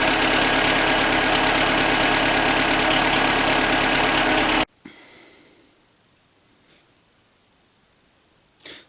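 A Skoda Fabia 1.4 engine with piston knock runs loudly and steadily for about four and a half seconds, then cuts off abruptly into near silence with only faint background noises.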